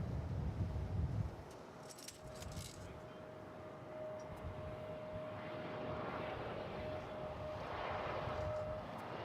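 Airliner departing DFW Airport bound for Portland, Oregon: a distant jet engine roar swells steadily and holds, with a faint whine above it and a brief burst of closer handling noise at the start.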